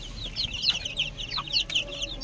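Chickens clucking in a backyard coop, several birds close by with overlapping short clucks and chirps, no talk.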